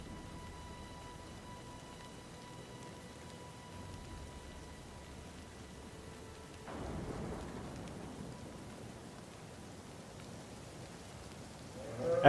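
Gentle rain falls softly in a video game battle scene with Roman auxiliary troops, with faint thunder underneath. The ambience is quiet and steady, and it swells slightly about halfway through.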